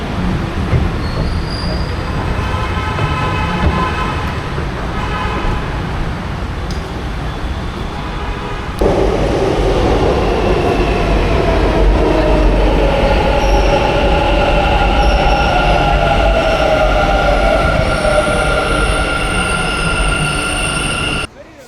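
Bengaluru metro train ride from Attiguppe station, with a loud, steady interior rumble and rising wheel squeal and whine as the train picks up speed, nearby voices faintly audible.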